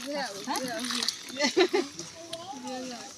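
Water is poured over a person's head during a Bengali turmeric bath ceremony, making a short burst of splashing midway through amid continuous chatter from adults and children.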